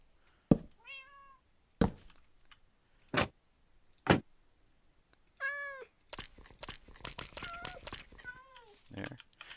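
Cats meowing in Minecraft, several short game meows spaced apart among sharp clicks and thunks, then a busier patch of overlapping clicks and a final meow, close and clear.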